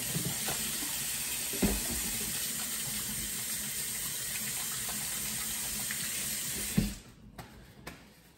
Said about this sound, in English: I gotta wash my hands one more time.